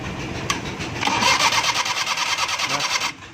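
A car engine is cranked on the self starter and fires up, with a quick rhythmic churning that settles into a running engine and then cuts off, heard up close.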